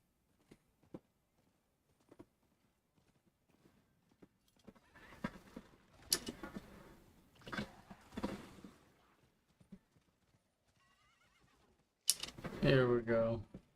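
A horse in the Diablo IV video game, with sparse hoof clip-clops at first, then a busier stretch of movement and game effects, ending in a loud whinny. A voice talks over parts of it.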